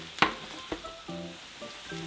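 Potatoes frying in olive oil in a pan for a Spanish potato omelette, a soft steady sizzle broken by a few sharp utensil knocks and brief tonal scrapes, close up with no talking.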